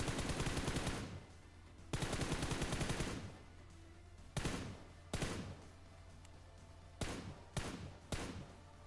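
Bursts of automatic gunfire in the mobile battle royale BGMI (Battlegrounds Mobile India), with several loud rapid volleys separated by brief pauses and then shorter single sharp shots.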